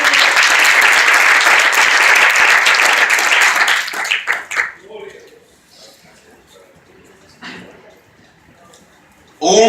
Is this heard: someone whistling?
no